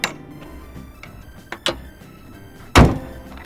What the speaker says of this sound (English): now let's close the hood